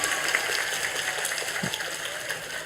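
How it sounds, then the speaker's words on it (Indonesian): Audience applause at a humorous religious lecture, a continuous patter of clapping from a crowd, moderately loud and with no talking. "Tepuk tangan untuk binan di hukum."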